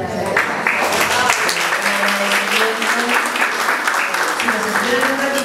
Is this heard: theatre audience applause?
yes